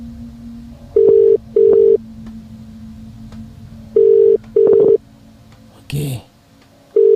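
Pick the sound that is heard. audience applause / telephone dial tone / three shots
telephone dial tone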